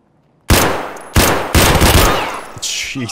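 Loud automatic gunfire in Escape from Tarkov: four close, sustained bursts of rapid shots, each starting abruptly after a short silence, with no talking.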